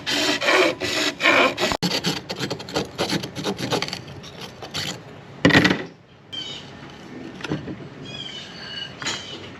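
Blade rasping and scraping through the housing of a trolling motor during teardown, with a steady dense stretch of cutting, then a sharp loud burst around the middle and quieter intermittent scraping and rattling after, close up.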